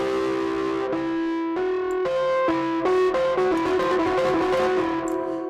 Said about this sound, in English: See, distortion straight away.